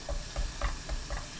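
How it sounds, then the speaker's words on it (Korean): Minced garlic sizzles in a spoonful of cooking oil in a pan over high heat, a soft, steady frying crackle with faint stirring scrapes, quiet and alone. "식용유 1큰술, 다진 마늘 반큰술 넣고 센 불로 볶아주세요."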